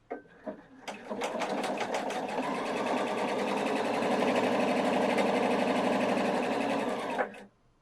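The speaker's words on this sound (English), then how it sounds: "you're going to start sewing at the top, and you're going to sew all the way to the bottom" Close and steady, a Pfaff 710/720 sewing machine hums and rattles as it stitches a seam down fabric from top to bottom, following a few brief clicks and ending abruptly.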